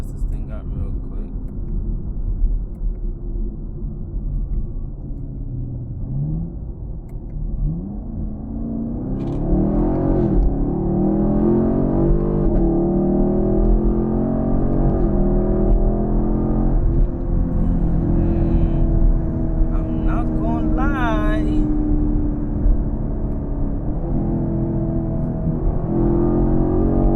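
A Camaro 2SS pulls away and accelerates, its deep engine rumble swelling and holding steady for nearly half a minute, with people talking inside the car over the engine.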